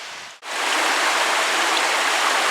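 A forest stream rushes in a steady, close, loud wash of flowing water after a brief dip at the start, with no voices.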